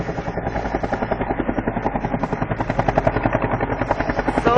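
Helicopter flying overhead at a Sam's Club, its rotor thumping in a fast, even pulse, loud and close throughout with no talk.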